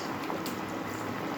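Potatoes boiling in a pot, with a steady soft bubbling and rolling simmer held close and even throughout, no voices.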